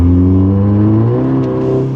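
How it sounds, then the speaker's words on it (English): An Audi TT engine with a RamAir induction intake hums loudly at steady revs with a low droning tone that shifts pitch slightly, a fluttering turbo whir riding over it. "I still hear the turbo fluttering"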